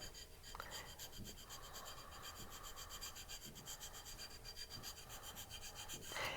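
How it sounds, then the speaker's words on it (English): A ring file rasps steadily against the inside of a silver clay ring in quiet, rhythmic back-and-forth strokes, close and continuous. "we're going to take a ring file, and we are going to sand the inside here"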